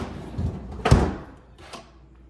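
A double kitchen drawer in a Henderson, Nevada home slides open with a sharp thud partway through, followed by a fainter knock.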